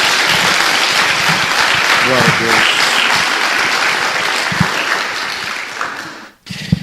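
A church congregation gives a round of applause for Jesus during a Bible study: loud, sustained clapping that tapers near the end, with a voice calling out over it.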